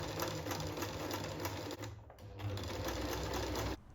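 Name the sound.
sewing machine sewing flag seam edge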